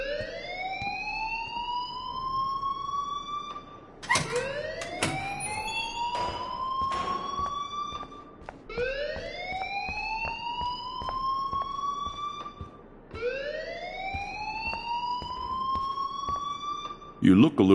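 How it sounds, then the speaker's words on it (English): An alarm rings in the video game Life is Strange, a loud repeating siren-like tone that sweeps upward in cycles of about four seconds, with brief clatter and voices between the sweeps. "please turn off that alarm since that's your job"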